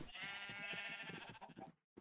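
Minecraft sheep bleating on a survival farm, one drawn-out wavering bleat with a short second call cutting in at the end, close and clear with no speech.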